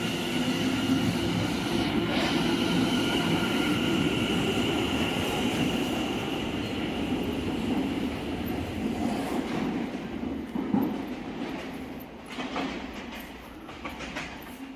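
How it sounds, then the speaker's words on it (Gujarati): A London Overground train pulling away from a station platform, a loud steady rumble of wheels and motors with rhythmic rail clatter that gradually thins as it moves off. "જો આ ટ્રેન ઉપડી ગઈ"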